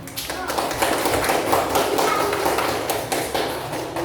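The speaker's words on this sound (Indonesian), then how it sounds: "Tepuk tangan." A room full of people applauds, with dense clapping that continues for several seconds while voices mix in the background.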